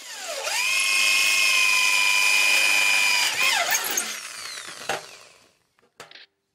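A power drill spins up with a rising whine, bores steadily through a metal rifle target piece for about three seconds, dips as the bit breaks through, then winds down, with a few clunks after.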